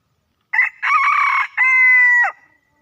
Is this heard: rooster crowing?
yes